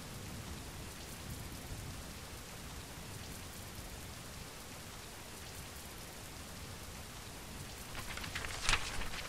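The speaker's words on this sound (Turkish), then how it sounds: "Yoksa bak, yağmur da yağıyor." Steady rain falls throughout a stretch of the survival game Oxygen: First Breath, a dense even hiss of drops on surfaces with a brief louder crackle near the end.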